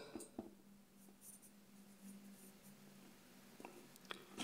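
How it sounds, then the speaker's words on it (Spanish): A sharp HB graphite pencil scratches across paper in soft, steady strokes, with a few quick louder taps and ticks, close and quiet. "Estoy haciendo todo esto con un lápiz HB bien afilado."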